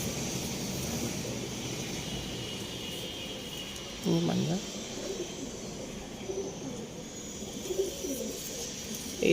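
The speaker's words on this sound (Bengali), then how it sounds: "সুন্দর পায়রা।" An Arsad or Andhra pigeon coos inside a loft, a low rolling coo rising once clearly near the middle and recurring more faintly afterward, close by over a steady background murmur.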